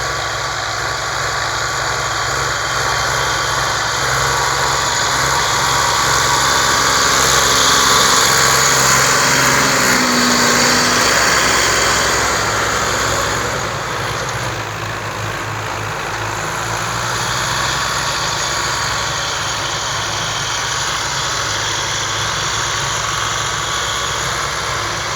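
A Ford 4560 tractor engine runs in first gear with a steady, loud mechanical drone, swelling slightly then easing back as it works, continuous throughout with no talk.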